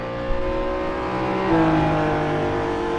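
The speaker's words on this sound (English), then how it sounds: "The engines are so loud from the external cam." Historic race car engines roar steadily on the Longford road circuit, a loud continuous drone heard close from the car with a pitch shift midway as revs change, no talk.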